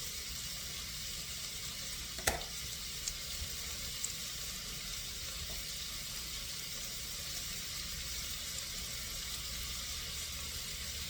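Onions fry in a pan as chicken livers with peas over risotto are being prepared, giving a steady, moderate sizzle that runs alone throughout, broken by one brief sharp click early on.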